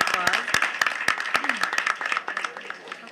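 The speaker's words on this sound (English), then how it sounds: "a round of applause." An audience at a collectors' talk gives a round of applause, with distinct close claps and a patter of many hands that thins toward the end, under some brief voices.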